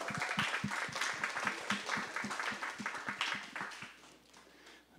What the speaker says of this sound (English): Big round of applause for Chapman Crafted